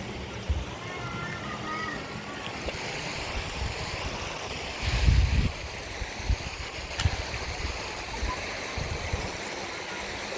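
Steady rushing water of a river flows continuously, a broad wash of noise with a brief louder surge midway; no voices.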